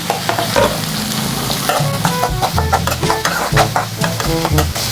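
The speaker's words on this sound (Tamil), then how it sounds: "இப்போ வெங்காயம் வதக்கிக்கலாம்" Onions sautéing in a pan for a lentil side dish, a loud, dense sizzle with repeated scraping and clanking of a stirring spoon, close and without talk.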